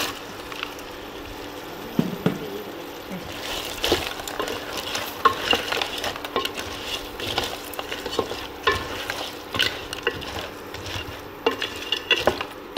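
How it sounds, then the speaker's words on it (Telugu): Cleaned crabs stirred into a pan of frying crab curry masala, a steady close sizzle with repeated scraping and clinks of a spoon against the pan. "ఇందులో మనం ముందుగానే శుభ్రపరుచుకున్న పీతలు కూడా వేద్దాం"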